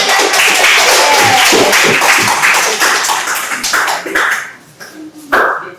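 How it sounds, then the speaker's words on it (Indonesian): A classroom of students clapping their hands after a lesson greeting, a loud burst of rapid, dense claps that gradually thins out into a few scattered final claps. "Tepuk tangan."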